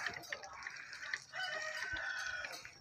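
A chicken at a zoo crows a single drawn-out call, fairly faint and slightly distant, with a few soft clucks around it and no one talking.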